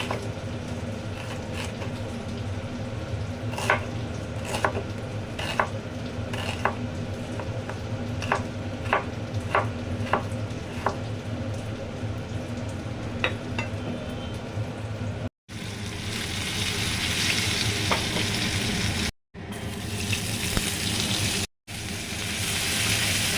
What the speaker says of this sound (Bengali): ডাল আর উচ্ছে আলু বেগুন ভাজাটা হয়ে গেছে